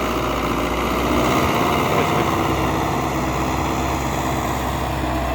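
MTZ-80 tractor ploughing a field with a homemade front ballast weight, its diesel engine a steady, loud, close drone that runs without pause, no voices.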